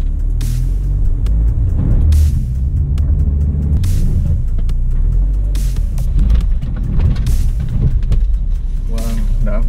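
A 2016 Renault Duster crawls over an off-road test obstacle, its engine a loud, continuous low rumble with heavy thumps and creaks as the wheels lift and drop, under some background voice.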